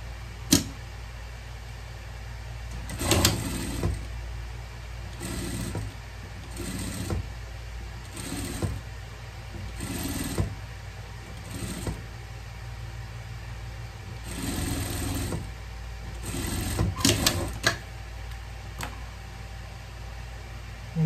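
A sewing machine stitching the hood of a turtle costume, its motor whirring in short repeated runs of a second or so, separated by brief pauses, steady and fairly close.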